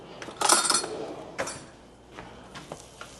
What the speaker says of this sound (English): Mix this up a little bit with a spoon, which is right here.